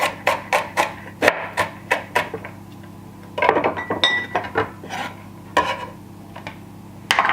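Vegetable stems for green juice chopped on a cutting board with a chef's knife, a steady run of sharp close knife strikes, then a pause and more irregular chops, no talking.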